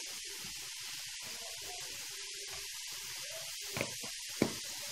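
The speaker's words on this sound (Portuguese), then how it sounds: "Enquanto o bife frita" Beef steak frying without oil in a small pan, a steady soft hiss and sizzle with a couple of sharp pops near the end, close and fairly quiet.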